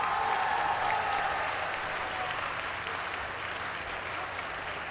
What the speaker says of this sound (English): A round of applause for the scholars at Northwest High School.